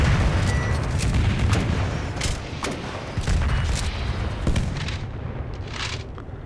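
Machine gun fire rattles in the War Raged video game in arena mode, a loud dense continuous burst of booming shots with a few sharper cracks, dropping slightly toward the end.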